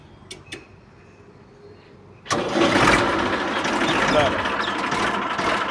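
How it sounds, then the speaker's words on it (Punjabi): A Ford 3230 tractor's engine cranks and catches after a quiet stretch, jumping to a loud, steady diesel rumble close by that keeps running to the end. "ਆਪਾਂ ਹੁਣ ਤੁਹਾਨੂੰ ਚਲਾ ਕੇ ਦਿਖਾਉਨੇ ਆ ਸਟਾਰਟ ਕਰਕੇ"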